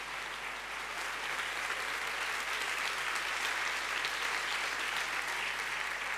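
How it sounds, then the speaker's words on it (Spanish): An audience applauds a dance troupe from Calahorra at a La Rioja comedy show, steady dense clapping that fills the hall evenly from start to finish without any talk. "pues damos otro aplauso a la danza de Calahorra."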